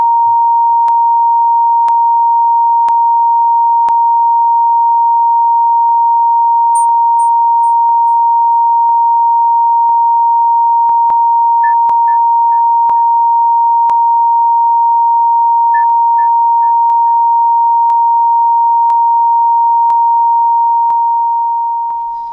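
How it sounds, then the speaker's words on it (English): A steady mid-pitched sine tone hums continuously and loudly for the whole stretch, with faint, brief higher echo-like beeps scattered over it, played as part of an echo listening test. "Let's play that echo test again, this time against a background of a steady middle frequency tone."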